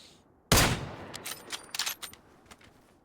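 One loud gunshot followed by a scattered volley of sharper, fainter shots, like video game gunfire, from PUBG on the Vikendi map.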